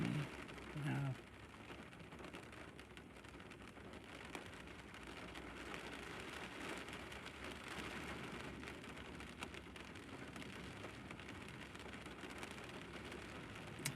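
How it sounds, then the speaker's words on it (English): Steady rain falling outdoors near a tent box, a continuous even hiss lasting throughout with a brief louder patch near the start; a voice speaks briefly early on. "This rain is so soothing."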